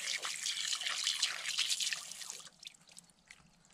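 Water runs and splashes over a freshly cleaned kokanee fish being rinsed, a close, busy hiss of flowing water that tapers into scattered drips near the end.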